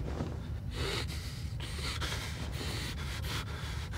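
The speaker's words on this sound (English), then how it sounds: "your breathing is not helping me out here" Miles, the character in the video game Outlast, breathes heavily, each harsh, gasping in-and-out breath repeating about every half second, loud and close with no talking.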